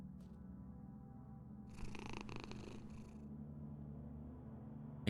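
A cat purring in the horror game Confusion, a steady low rumbling purr running close and continuous throughout, with a brief burst of brighter noise in the middle.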